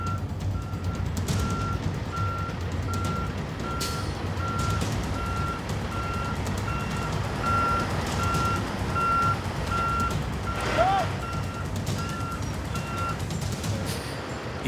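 A truck's reversing beeper sounds at a steady even pulse near a highway intersection in outback Australia, over a loud, constant engine rumble and road noise, with one brief higher squeal partway through.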